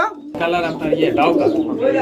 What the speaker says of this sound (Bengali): রেড কালার ডাউকা কবুতরের জোড়া